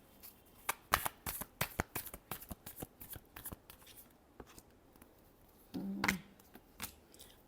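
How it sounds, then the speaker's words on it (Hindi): A deck of tarot cards is shuffled up close, giving soft, quick riffling taps and flicks in an irregular rhythm, with a slightly louder flurry near the end. "चलिए लास्ट शफल।"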